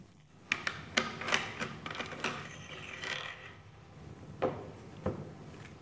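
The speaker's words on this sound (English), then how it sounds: "I pull the charging lever rearward. Then I can remove the bolt assembly." An MKb 42H rifle's charging lever is pulled back and its bolt assembly is removed, giving a close series of sharp metallic clicks and clacks, a brief scrape, then two firmer clanks near the end.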